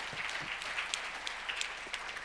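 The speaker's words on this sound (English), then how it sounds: "How about a round of applause for the judges?" An audience at the WiT Singapore 2022 Global Startup Pitch grand finals claps for the judges, a soft, somewhat distant patter of many hands with scattered sharper claps standing out.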